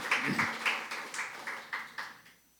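A church congregation claps in a steady rhythmic beat during a Sunday joint worship service marking the church's 15th anniversary, with about eight evenly spaced, fairly faint claps fading out at the end.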